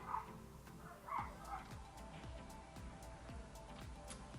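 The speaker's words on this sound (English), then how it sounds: "there's a dog fight going on outside" Dogs outside bark and yelp in short bursts, with a couple of louder barks near the start and fainter yips and whimpers after, somewhat distant.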